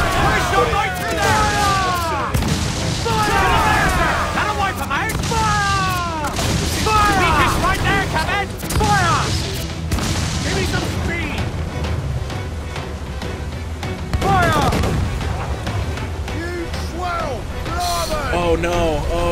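Ship cannons firing in Assassin's Creed IV: Black Flag, heavy booms in a dense, continuous barrage beneath a voice shouting commands and busy game music.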